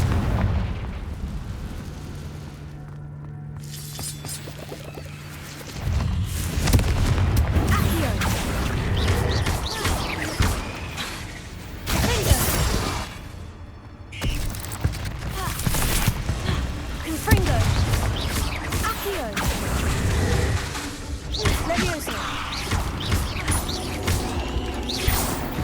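In the Hogwarts Legacy video game, Confringo spell blasts go off inside a cave as a run of heavy booming explosions and crackling bursts, loud and close, mixed with game sound effects and a voice speaking at times.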